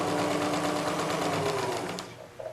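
A sewing machine stitches quilt strips together, a close, steady rapid whir that slows and stops near the end, with no talking.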